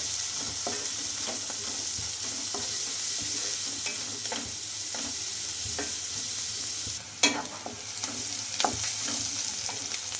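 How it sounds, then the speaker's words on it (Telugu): Chopped onions frying in a pan until brown, a continuous crackling sizzle with scattered pops and brief stirring scrapes, no talk. "ఈ ఆనియన్స్ కూడా బాగా బ్రౌన్ కలర్ ఫ్రై చేసుకోవాలి"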